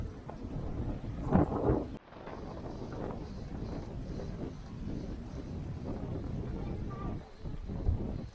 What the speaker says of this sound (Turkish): burada bayağı bir rüzgar var